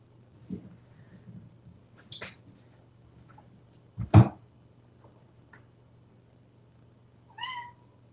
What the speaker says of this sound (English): You hear my cat? She's being super wild.